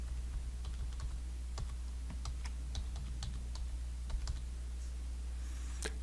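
Password being typed on a college computer's keyboard: a steady run of light, separate key clicks over a low background hum, fairly close and with no talking.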